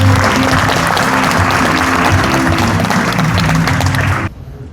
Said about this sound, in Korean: 이동국 시장님에게 큰 박수 부탁드립니다